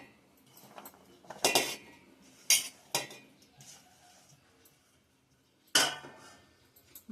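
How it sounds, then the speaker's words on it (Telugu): Chopped beetroot, carrot and ginger pieces are tipped into a mixer jar, making a few sharp clattering knocks separated by short pauses. "ఇక మొత్తం కూడా మిక్సీ గిన్నెలో వేసేసుకుందాం."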